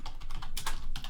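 Rapid typing on a computer keyboard, a close, dense run of key clicks with a few louder strokes, and no voices.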